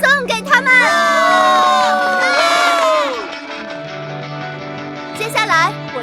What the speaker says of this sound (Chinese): 让我们掌声送给他们！